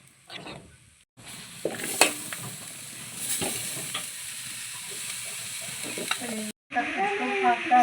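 Boiled bamboo shoots go into hot tempering in a pan, raising a steady loud sizzle and fry hiss with clinks of stirring, broken by two brief pauses.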